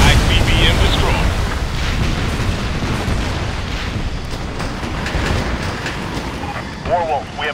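A rumbling, sustained explosion of an ICBM being destroyed in the air-combat game Ace Combat: Assault Horizon, with a loud burst at the start settling into a long roaring wash, and radio voices talking over it.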